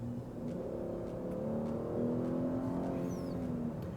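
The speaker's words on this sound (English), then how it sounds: "That exhaust sounds really good." A 2025 Chevy Blazer RS gas engine idles through its exhaust, a low steady burbling hum at close range with a faint rise in the middle, no talking.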